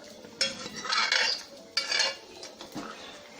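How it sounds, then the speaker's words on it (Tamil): A spoon stirs a coconut and lentil mixture in a metal pot for bottle gourd sambar, giving two scraping, clattering passes and a lighter clink, close by with no talk. "கடைஞ்சிக்கலாம் ரெண்டையும் நல்லா கலந்துக்கலாம்"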